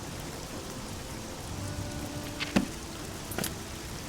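Rain falls in the fantasy video game Oblivion as a soft, steady patter, broken by a couple of brief sharper taps near the end.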